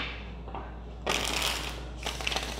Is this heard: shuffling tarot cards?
yes